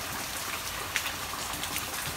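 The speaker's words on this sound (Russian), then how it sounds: "Вчера был вообще ужасный ливень." Steady broadband hiss of heavy rain pouring over a vegetable garden, constant and enveloping with faint scattered drop impacts, no talking.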